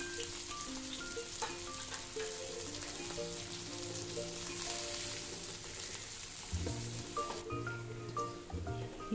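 Bitter gourd peels fry in a pan of hot oil, giving a steady, close sizzle and crackle that runs throughout with light stirring, while background music plays underneath.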